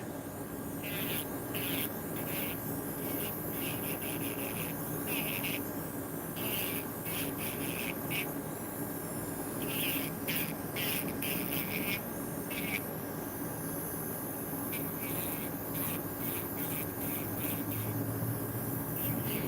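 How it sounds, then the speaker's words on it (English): A nail file works an acrylic nail on a middle finger, giving soft, quiet scratchy strokes in irregular bursts over low room noise. "As you see, I'm filing this middle finger."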